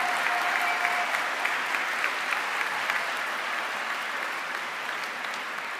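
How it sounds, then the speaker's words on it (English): An audience at the West Scranton High School commencement ceremony claps in loud, sustained applause that fills the room from start to finish and tapers only slightly. "give them a round of applause for all they've done to support you along the way."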